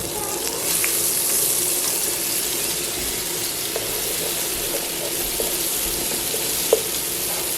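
Curry powder frying with corn in a pan, a steady, hissing sizzle running throughout at moderate level with a few faint pops and one brief clack near the end.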